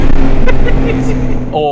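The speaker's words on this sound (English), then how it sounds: "It's not an exciting engine tone." A BMW M3 Touring's engine gives a steady, muted drone while driving, heard up close beneath someone talking.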